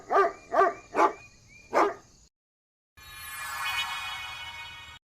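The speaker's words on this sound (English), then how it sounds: "Dog." Dog on a children's farm-animal lesson giving four quick, evenly spaced barks up close, then a pause and a stretch of steady noise.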